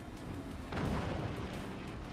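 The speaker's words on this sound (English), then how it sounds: "Double cannon shot" Heavy cannon fire from a Forts real-time strategy game: a booming blast rising near the middle, with dense low rumble sustained throughout and no talk over it.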